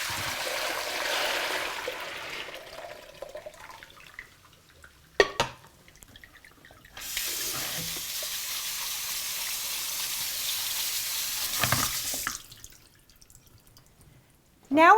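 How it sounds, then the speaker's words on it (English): Soaked beans are rinsed under a running kitchen tap, with a steady splashing rush of water that starts and stops in bursts, separated by quieter drips and handling clatter. "Now I'll rinse the beans very well"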